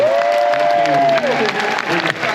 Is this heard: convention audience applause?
yes